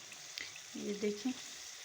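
Masala with yogurt sizzles in hot ghee in a pan while cooking an aloo tinda sabzi, a steady soft frying hiss with a few brief louder bubbling pops.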